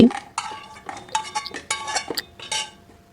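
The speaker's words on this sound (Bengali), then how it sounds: "তারপর আমি একটা প্লেটের মধ্যে তুলে রেখে দিচ্ছি" Fried dried red chilies are moved onto a plate, giving a few light clinks and scrapes of a utensil against dishware, close and brief, in an irregular sequence of taps.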